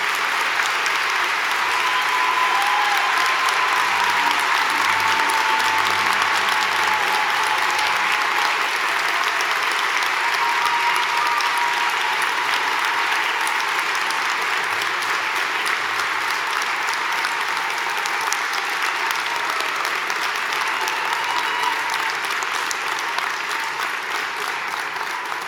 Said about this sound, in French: Nous pouvons tous ensemble applaudir leur succès.